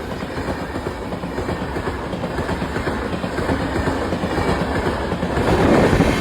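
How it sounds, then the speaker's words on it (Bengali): An express passenger train, the Sayan Express, runs on rails past Sargachhi station, a steady rolling rumble and clatter that grows slightly louder toward the end, with no voices. "সারগাছি স্টেশন ক্রস করছে এখন সায়ন এক্সপ্রেস।"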